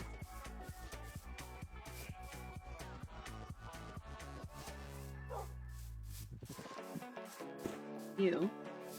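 Minecraft dog barking in a game scene, brief barks and yips over rhythmic game music, with talking near the end.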